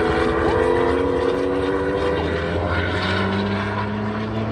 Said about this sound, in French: Attention, dépassement de la Porsche sur la 488.